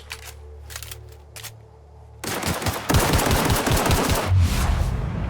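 Gunfire from the video game The Outer Worlds: a few soft clicks and shots are followed by rapid automatic fire, a dense string of loud, close bursts that lasts about three seconds.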